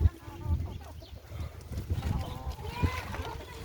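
Chickens being fed in a farmyard, soft clucking and low calls close by, along with scattered rustling, thumps and splashy movement as the birds peck and move about, with no one talking.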